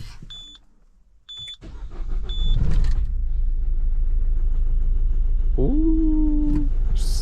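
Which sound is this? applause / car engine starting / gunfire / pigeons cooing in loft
car engine starting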